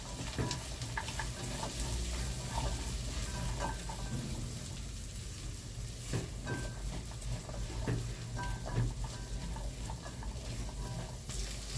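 Green fava beans fry and are stirred in a pot, a steady close sizzle with scattered scraping clicks of the spoon running throughout, no voices.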